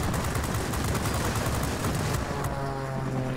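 Rapid rocket and gunfire barrage from a J 21RB plane in World of Warplanes, a dense continuous volley of bursts and booms with an engine drone rising toward the end, loud and close.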